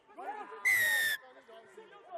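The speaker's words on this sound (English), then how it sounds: "Whistle goes, penalty to Durbal." A referee's whistle at a rugby match at an Easter festival sounds one loud, sustained blast of about half a second, set against crowd noise and a commentator's voice before and after.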